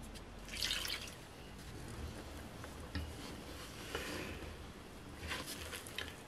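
Yeast diluted in water, 7 grams in 150 grams, is poured into a bowl of flour and salt, giving faint, close dripping and splashing liquid sounds over a low background hum, with no talking.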